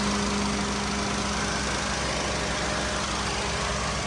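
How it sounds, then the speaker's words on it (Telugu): A Honda Amaze petrol car idles close by, giving a steady, even engine hum with a constant low drone throughout and no revving. "బండి ఆన్లోనే ఉందండి, బండి రన్నింగ్లోనే ఉంది"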